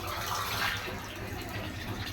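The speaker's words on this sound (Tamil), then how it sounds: "கொஞ்சம் தண்ணி சேர்த்துக்கிறேன்." Water pours into a cooking pot with pasta, a continuous close splashing gush that stays fairly even for a couple of seconds, with no talk over it.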